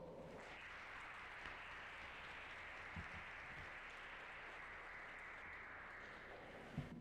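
Steady applause from the audience at a Windsor High School senior induction ceremony, a dense even wash of clapping sustained throughout with no voices over it.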